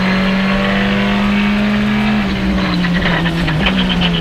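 Skoda Fabia RS rally car competing at the 2024 Rallye Montbrisonnais: a loud, close, sustained engine drone that shifts pitch mid-run and climbs again under acceleration, with no talk.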